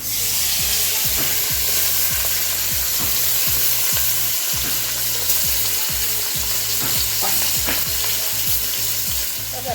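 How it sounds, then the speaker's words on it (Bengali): Katla fish fries in hot mustard oil seasoned with salt and turmeric, a loud continuous sizzle and crackle close by, with faint spatula scrapes and no talking. "তেলটা গরম হয়েছে, এখন মাছটা দিয়ে দিব।"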